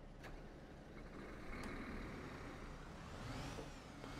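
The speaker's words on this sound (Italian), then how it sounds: "Accendiamo le luci e il motore." A Solaris Urbino 18 articulated city bus starts up in the OMSI 2 driving simulator, giving a steady low engine rumble with a faint rising whine near the end and no talk over it.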